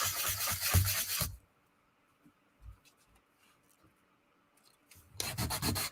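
Sanding the edge of a paper collage piece in a sketchbook: loud, close, raspy rubbing strokes at the start, a quiet gap with faint scratches, then vigorous sanding again.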